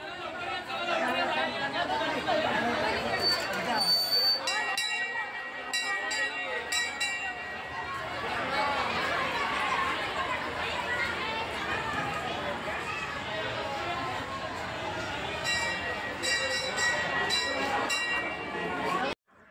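Dense crowd of devotees packed inside the Balumama temple, a steady roar of overlapping chatter with occasional bell rings and metallic clinks cutting through, continuous and close throughout.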